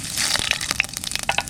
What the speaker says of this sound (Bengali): সর্ষের তেল দিয়ে দিচ্ছি, শুকনো লঙ্কা আর জিরে,